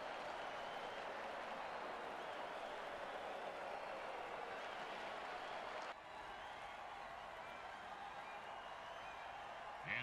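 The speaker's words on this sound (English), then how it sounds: "Oh, crowd's loving it." A steady crowd roar fills an American football video game stadium, a continuous wash of cheering and applause that runs unbroken and fairly even throughout.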